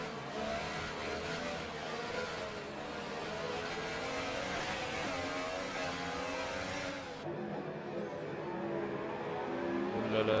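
Formula 1 cars from a racing video game at Monaco, including the two Force India cars, roar and rev continuously in close pursuit, with the engine pitch rising and falling and a brief drop in sound partway through.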